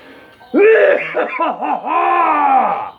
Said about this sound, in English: Cough deep.